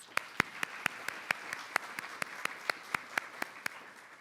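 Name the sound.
audience applause for two papers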